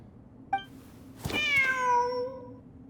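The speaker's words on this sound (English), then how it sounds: "Wait, there it is! The cat!" A cat in the video game Genshin Impact gives a short chirp, then a longer, clear, drawn-out meow that falls in pitch, close and distinct against a quiet background hum.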